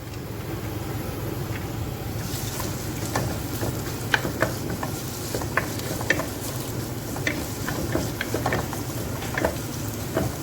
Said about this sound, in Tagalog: I put a small amount of olive oil and fry fresh ginger first.